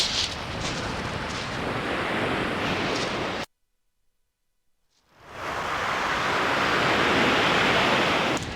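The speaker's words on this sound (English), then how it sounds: "That wind from right to left is a pain when you cast." Wind buffets the microphone on a pebble beach while surf washes in, a loud, broad rushing roar that drops out completely for under two seconds and then swells back.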